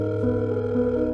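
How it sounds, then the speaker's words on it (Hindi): A steady phone call dial tone, a continuous even hum held for about a second as an audio drama sound effect. "तब अनिका ने फोन निकालकर राजलक्ष्मी को कॉल किया।"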